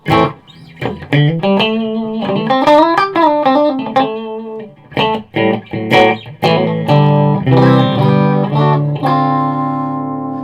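Clean electric guitar with single-coil pickups played through a Peavey ValveKing VK112 valve amp with reverb, a melodic run of single notes and chords ringing out and sustaining at the end.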